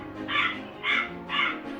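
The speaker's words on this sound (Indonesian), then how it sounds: "setiap hari akan datang burung gagak pada pagi hari membawakan Nabi Elia roti" Three loud crow caws, evenly spaced, ring out alone as a sound effect in a children's Bible story about the prophet Elijah being fed by ravens.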